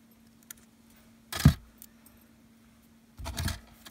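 Jewelry wire is snipped with cutters during bracelet wire work, a sharp click or two followed later by a duller metallic rattle, close by and quiet, with no talking.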